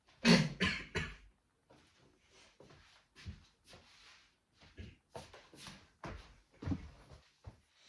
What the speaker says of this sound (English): I just got to sort out my cough